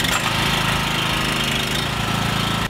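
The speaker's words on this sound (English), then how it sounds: "So we got the switch on, no choke, machine starts very easily." A gas pressure washer engine runs with a rapid, steady, loud chugging putter from start to finish, close by and alone.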